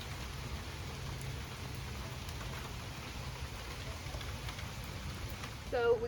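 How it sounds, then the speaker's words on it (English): Steady light rain falling outdoors during a break from planting fall planters, a soft continuous patter with no voices, ending in a brief louder rustle near the close. "kind of raining right now, but it's lightened up a lot"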